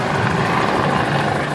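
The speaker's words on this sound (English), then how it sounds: "while the Westpac helicopter airlifts the crew to safety" Westpac rescue helicopter airlifting crew from a wreck on a beach in large swells, its rotor throbbing loud and close in a continuous, steady roar with no voices.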